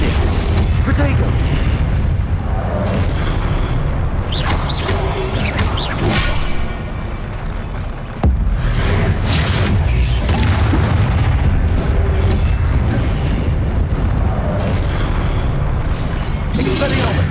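Confringo blasting spells exploding in Hogwarts Legacy during a boss fight, loud repeated booms and crashes with busy game sounds throughout and voices over them.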